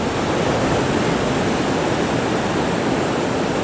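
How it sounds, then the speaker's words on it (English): Steady ocean surf as a calm yoga background, a continuous broadband wash of waves with no distinct breaks or other sounds. "the sound of the ocean can help you"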